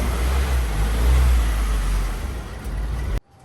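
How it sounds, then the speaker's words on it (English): A Subaru engine revs hard while its clutch is being burned out during frame damage repair, a loud sustained drone with swelling low rumble that cuts off abruptly near the end. "Oh, he's burning my clutch out now."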